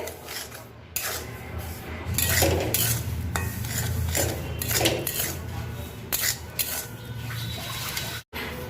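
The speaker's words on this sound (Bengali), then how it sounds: "প্রথমে আমি সুজিটাকে ফ্রাই করে নিব" Dry semolina (suji) toasted in a pan and stirred steadily, producing continuous gritty scraping and rubbing strokes with occasional clinks of the utensil, close and moderately quiet, without talk.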